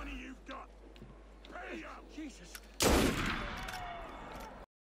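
In Assassin's Creed Unity, a loud gunshot blast cuts in abruptly and its noisy tail lingers before the sound stops. A voice murmurs beforehand.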